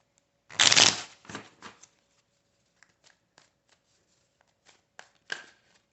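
Tarot cards being shuffled by hand: one quick riffling burst up close, followed by a few softer shuffles and scattered light taps and slides of cards in an otherwise quiet room.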